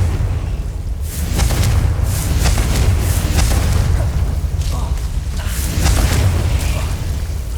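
In Hogwarts Legacy, Confringo spell blasts erupt as a series of loud, booming explosions with rumbling low ends that follow one another closely.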